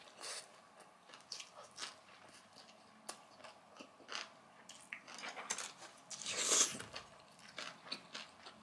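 Tuna kimbap roll being bitten and chewed up close: quiet, soft chewing with scattered small crunchy clicks and a louder bite partway through, no talking.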